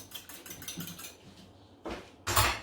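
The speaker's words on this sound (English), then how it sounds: "Give it a little bit of a whisk" An egg whisked in a little bowl for a croissant egg wash gives a quick run of light, rhythmic clinks and taps, ending in two louder, fuller bursts of clatter up close.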